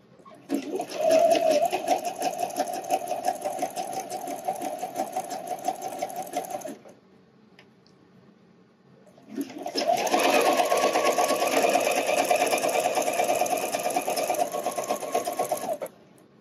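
Sewing machine stitching the elastic band of an Annika wireless bra, running in a steady buzzing burst of about six seconds, pausing briefly, then resuming for another long continuous run, close and loud.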